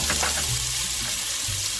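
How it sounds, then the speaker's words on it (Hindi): Chili frying in hot oil in a pan while dal makhani is cooked: a steady, dense, close sizzle that fills the whole clip with no talking. "तेल गरम हो गया है और चिली भी पक रही है अच्छे से।"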